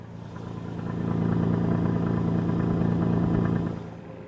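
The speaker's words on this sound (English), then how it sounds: "as it gets older and the middle muffler has got a hole in it, she's starting to sound a little bit rortier" An ageing car's engine with a holed middle muffler, a gruff low drone that swells as it passes close by, holds steady, then fades, heard alone without talk.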